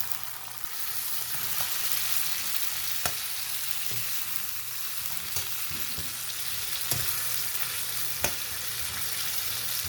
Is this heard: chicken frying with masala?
yes